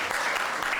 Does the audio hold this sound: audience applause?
yes